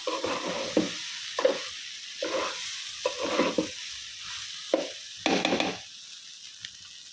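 Rice sizzles and frys in a pan with repeated scraping strokes of a spoon, several bursts of stirring separated by brief quieter pauses.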